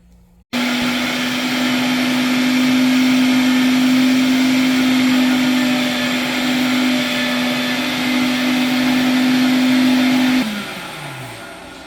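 An electric meat grinder runs steadily through the first coarse grind of jalapeño and cheese summer sausage meat, a loud constant motor hum with a droning whine that starts suddenly and winds down near the end.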